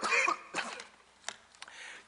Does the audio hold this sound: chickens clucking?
no